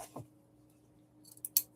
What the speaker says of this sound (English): So let's hope this scissors work.